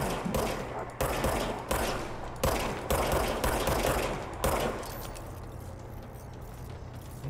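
Gunfire from a handgun in the video game Control: roughly six sharp, evenly spaced shots about a second apart, fairly loud and close, followed by a quieter stretch of low ambient hum.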